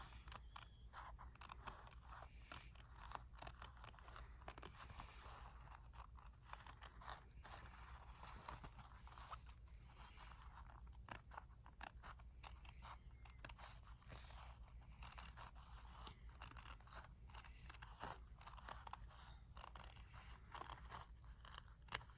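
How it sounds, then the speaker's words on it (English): Scissors cut around a circle in quilting fabric for reverse appliqué, a faint, steady run of small crisp snips and blade clicks that repeats close by in a quiet room. "So you're going to keep cutting around."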